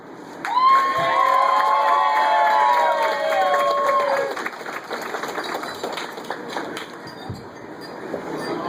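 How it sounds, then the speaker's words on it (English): A wedding reception crowd bursts into loud applause, whoops and cheers after a best man's toast, with a shrill whistle riding over the clapping for several seconds before it thins into scattered claps and chatter. "Can I get one more round of applause?"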